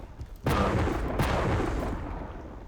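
The lightning gun in Quake Champions fires a continuous crackling beam for about a second and a half, loud and dense, then cuts off.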